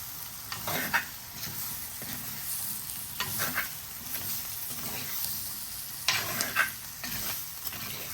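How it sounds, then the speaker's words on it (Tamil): Chili powder frying in oil in a pan: a steady, soft sizzle with occasional stirring scrapes, close by and with no talking. "ஒரு மூன்று நிமிஷம் அப்படியே பொரிய விடுங்க இந்த ஒயிலே"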